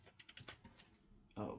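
Folder names being typed on a computer keyboard, a quick run of close, light key clicks in an uneven rhythm, ending in a louder thump.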